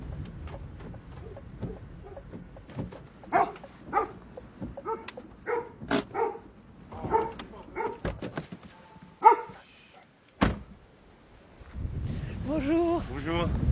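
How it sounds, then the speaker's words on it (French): A dog outdoors on a rainy day in Brittany gives several scattered barks and yips mixed with other short sounds, with a person talking near the end. "Il est avec son chien"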